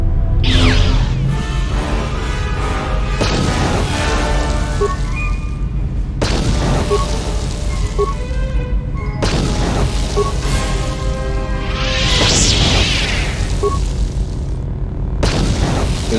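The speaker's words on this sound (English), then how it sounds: "she not attacking when now I'm doing frag grenades" Frag grenade explosions in Star Wars Knights of the Old Republic 2, several loud booms over a constant roar of battle music and effects, with no voices.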